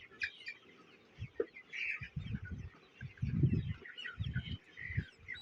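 A sick chicken, too weak in the legs to stand, clucks in short bursts while being held and given water. The low, throaty clucks come close and fairly loud, with faint bird chirps behind them.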